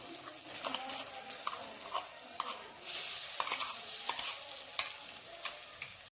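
A spoon scrapes and stirs thick ground pea paste in a pan with roasted gram flour, a soft steady sizzle underneath and occasional sharp clinks against the metal.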